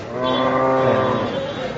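A cow in a village setting in Cumilla lets out one sustained, loud moo, close by and harmonic-rich, swelling and then fading over under two seconds.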